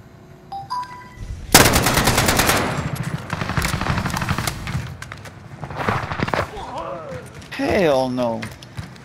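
Rapid automatic gunfire in a Call of Duty Modern Warfare multiplayer match, loud sustained bursts with mechanical reload clanks between them and someone talking over the action.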